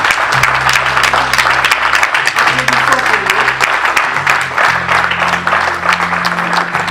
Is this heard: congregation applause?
yes